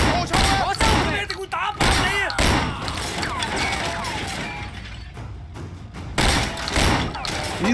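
Rapid gunfire from guns in Sleeping Dogs, loud, close bursts of shots and thuds in a busy action scene with pauses between volleys, mixed with other impacts and crashes.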